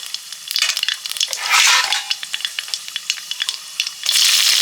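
Nigella seeds crackle and sizzle in hot mustard oil in a pan, a steady bright frying hiss with dense popping crackles throughout and louder surges of sizzling.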